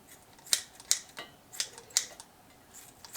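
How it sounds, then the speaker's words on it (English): Sharp scissor snips clip fresh greens into small pieces, repeating about six times at a steady pace, crisp and close with quiet pauses between. "I'm going to clip it in little pieces. My scissors will clip"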